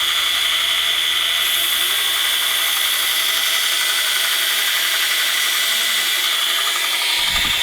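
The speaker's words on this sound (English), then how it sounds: "what I'm going to do right now is just grind a very short bevel" A grinder runs steadily and loud while cutting a short bevel on a heat-treated knife blade, a constant high whine and abrasive hiss throughout with no break.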